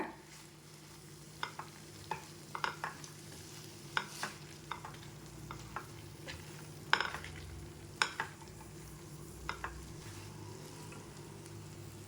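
Fresh mint leaves sautéing in a pan for mint chutney, a faint low sizzle under scattered soft clinks and scrapes of a stirring spoon, with no voices.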